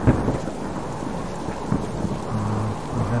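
Rain downpour with rolling thunder in a video game: a dense, steady rain hiss under deep, rumbling thunder, with a low drone near the end.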